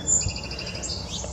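House finches at a backyard feeder give a quick series of high, thin chirps and tweets, moderately close, over faint outdoor background noise.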